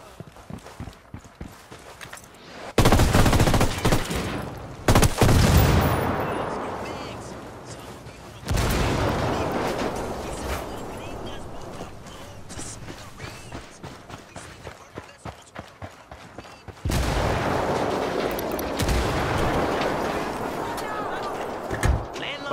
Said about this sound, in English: Incoming mortar fire.